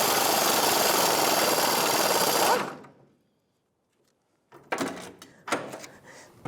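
Air impact gun with a 15mm socket working rusted nuts and bolts off the fuel tank straps of a 1992-1996 Ford F-150: a loud sustained buzzing burst for a couple of seconds, a pause, then two shorter close rattling bursts.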